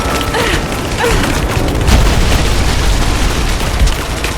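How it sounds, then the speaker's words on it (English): A trebuchet fires in Rise of the Tomb Raider: a dense, loud mechanical clatter of ratcheting wood and gears with deep booming thuds, sustained for several seconds under a steady rumble. "signal Sophia to fire that trebuchet."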